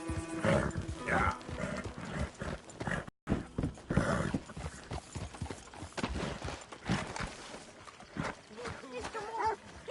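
Horse hooves clip-clop in the video game Red Dead Redemption 2, a steady rhythm beneath a voice talking in an outdoor camp setting, with a brief silent gap partway through.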